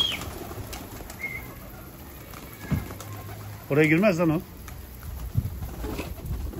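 A Hünkari pigeon gives one short warbling coo, fairly close, amid outdoor background noise and someone talking.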